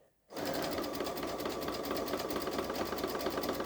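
A Babylock Solaris Vision sewing machine starts up and stitches steadily, a fast, even mechanical whir with rapid needle ticking, close and continuous after a brief silence.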